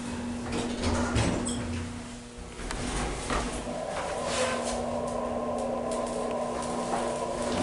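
Schindler 330A hydraulic elevator at a Lakeland hotel, its door sliding shut with a close rumble and thump, followed by a steady low motor hum and whine as the cab starts moving.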